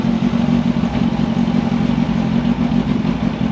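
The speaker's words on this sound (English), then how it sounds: "I just need to give it a little bit of a tickle with the throttle" Mini spaceframe racecar with a Yamaha R1 motorcycle engine, idling cold with light throttle blips, a loud close steady burbling drone with a throbbing low rumble throughout, no speech.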